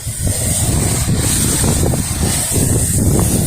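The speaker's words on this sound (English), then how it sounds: "beautiful windy day" Loud, continuous wind rumble battering the microphone during outdoor pressure washing, with a steady hiss overhead and no pauses.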